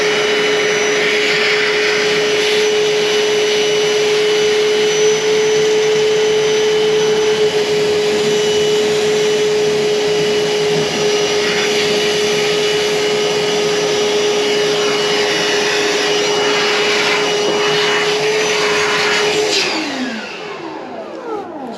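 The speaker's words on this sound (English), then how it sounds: "I've got the wet vac here, pop this cap off, get the wet vac on it, and in theory it should suck out everything" A wet vac pulls water from an opened pipe cleanout during a bathroom plumbing renovation, giving a loud, steady, high-pitched suction whine that holds for about twenty seconds and then drops off as the hose comes away.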